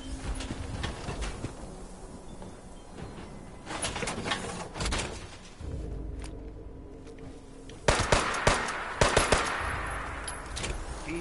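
Scattered gunfire in Fallout 76, mid-distance shots and short bursts over a steady game background, growing louder and more frequent toward the end.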